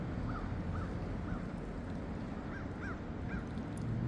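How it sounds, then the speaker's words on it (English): Crows caw outdoors in short scattered calls, about six harsh notes at moderate distance over a constant background rumble. "Chilling here with the birds flying by."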